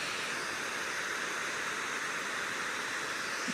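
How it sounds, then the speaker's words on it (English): Steady broadband rush of falling water from Apsley Falls heard from nearby, constant and unbroken with no talking. "Listen to that. You can hear the water."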